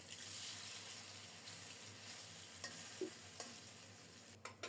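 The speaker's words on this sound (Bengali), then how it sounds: "কুমড়োর পিসগুলো বেসনে ডুবিয়ে গরম তেলে ছেড়ে দিলাম" Pumpkin pieces dipped in gram flour batter fry in hot oil, a faint, even sizzle with a few soft clicks and bumps from the pan.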